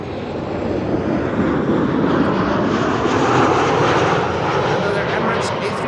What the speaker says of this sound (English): Another Emirates A380, quite clearly recognizable as such.